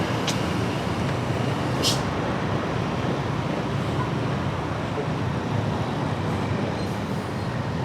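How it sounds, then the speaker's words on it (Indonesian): A truck climbs a hill amid traffic in Jogja, giving a steady, broad rumble of road noise that holds even throughout, with no voices heard. "Nah, ini truknya mau naik ke itu."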